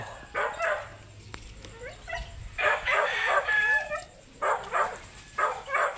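Native chickens cluck and crow in short repeated bursts around a farmyard, with what sounds like a dog barking among them.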